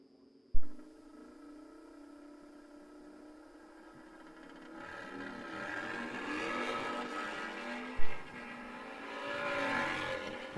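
Drag racing cars launch down the strip at an AMRA nitro nationals event in Illinois, a sharp burst followed by a building engine roar that swells and fades, then a second sharp burst with renewed roar, heard from a distance.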